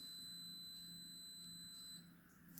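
A Hotpoint cooker gives a faint, steady high electronic beep tone right after powering up and initializing, held for about two seconds in a quiet kitchen, then fading.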